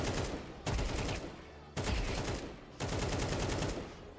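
Rapid automatic gunfire in Counter-Strike 2 comes in three loud bursts of shots, each cutting off sharply before the next string starts.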